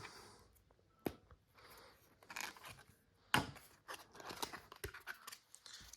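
Packaging for an S23 MagSafe wallet case being opened up close, with a few sharp snips and crinkly tearing rustles spaced between quiet pauses.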